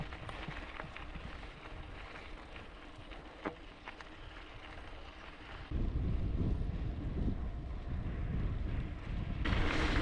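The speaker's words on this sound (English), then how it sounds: "Very blustery wind conditions today" Blustery wind buffets the microphone outdoors on a rural gravel road near Orange, New South Wales, Australia, a steady roaring rush that swells louder partway through, with no voices.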